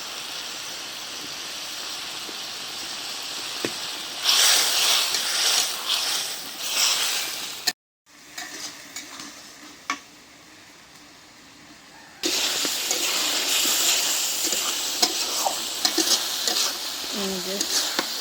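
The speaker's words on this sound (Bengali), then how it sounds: "পেঁয়াজ টমেটো সব একদম নরম হয়ে গেছে, সুন্দর করে কষাই নিলাম।" Onions, tomatoes and green chillies sautéing in a pan with green chillies just added, a loud close sizzle that swells when stirred, drops briefly to near silence, then returns strongly, with faint talk beneath.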